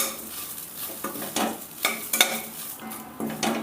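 Grated coconut dry-roasting in a pan, quiet scraping and stirring strokes with a faint crackle, a few clinks of a spoon against the metal.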